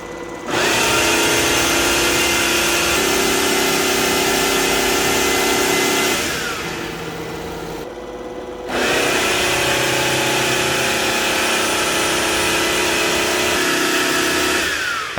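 A TICWELL Whale W1 cordless wet-dry vacuum running its self-cleaning cycle, a loud, steady motor whine with sloshing water that drops away around the middle, pauses briefly, then starts up again at full strength.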